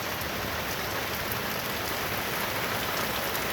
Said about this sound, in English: This was 4 or 5 days of rain. Rain, rain, rain, rain.